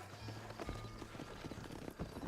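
Horse hooves clip-clop steadily on a dirt trail in the Western video game Red Dead Redemption, a continuous rhythm of soft thuds under ambient game sound.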